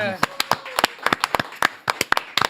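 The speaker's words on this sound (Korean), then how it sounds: "송영길 대표님 따뜻한 박수로 모십니다" A studio audience on a Korean talk show gives a few scattered, sharp claps to welcome a politician, close and uneven, with a voice briefly heard at the start.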